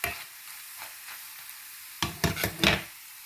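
Oil sizzles softly as cassava chips fry, then a few louder crackling bursts and scrapes break out near the end; no one speaks.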